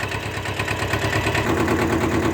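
A Kubota B5001 mini tractor engine idles while warming up, a steady close diesel chugging with an even rhythmic knock and vibration, alone without talk.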